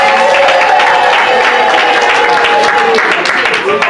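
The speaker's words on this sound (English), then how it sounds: "You guys gotta clap louder." A crowd at a youth retreat claps steadily and continuously, a dense wash of hand claps with voices mixed in underneath.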